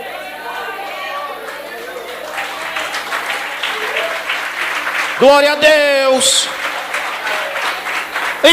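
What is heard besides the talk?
congregation applause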